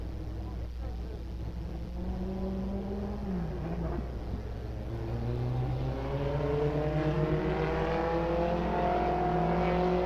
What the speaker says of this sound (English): in our mini stocks on the racetrack right now.